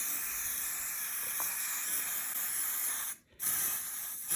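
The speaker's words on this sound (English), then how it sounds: "just spray the hairspray directly on" A steady aerosol spray of hairspray hisses continuously onto vinyl plank flooring, pausing briefly for a moment before resuming, close and fairly loud.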